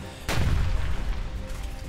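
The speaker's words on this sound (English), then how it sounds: "Explosions rocket across the screen." Booming blasts accompany a tabletop superhero role-playing game set in a city on the shores of Lake Superior: one sudden loud explosion hits near the start, followed by a sustained rumbling roar of further blasts.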